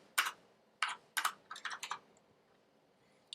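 Quick bursts of typing on a computer keyboard, several clusters of sharp keystrokes close up, then quiet.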